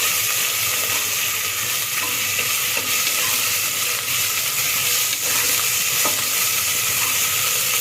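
Ginger garlic paste fries in a pan with a loud, dense, continuous sizzle and crackle, with occasional stirring scrapes and no voices.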